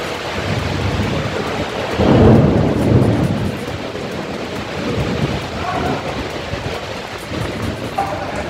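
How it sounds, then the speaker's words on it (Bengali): Thunderstorm over Kolkata with rain and hail, a loud continuous wash of heavy rain with a deep rumble of thunder swelling early on, no voices present. "এই তো একেবারে বজ্র বিদ্যুৎ সহ বৃষ্টি।"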